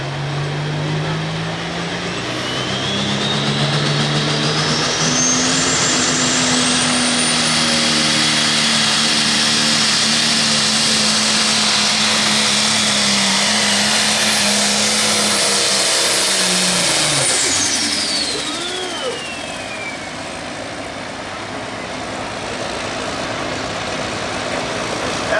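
An International 1466 tractor with a diesel engine roars down a pulling track at an 8,500 lb light pro stock pull in Hillsboro, Wisconsin, its loud sustained drone shifting pitch as it revs and strains, then dropping off near the end.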